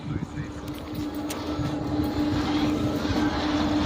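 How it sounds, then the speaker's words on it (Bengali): A slow-moving goods train carrying rice rolls past, a loud, steady rumbling roar with a sustained mechanical tone that swells gradually as it nears, heard close with no clear speech over it. "ওই দেখো ট্রেন আসছে, ট্রেন এসে গেল"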